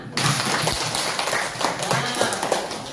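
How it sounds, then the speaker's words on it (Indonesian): A class claps in a steady, dense burst of applause lasting a few seconds, with voices mixed in underneath. "Oke, tepuk tangan."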